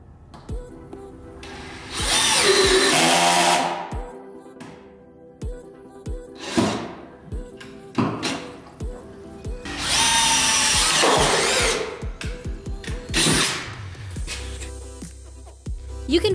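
A power drill drives fasteners through gable trim into a 7.2 Western Rib metal roofing panel, with repeated loud whirring bursts separated by short pauses and thunks, close by with no talk.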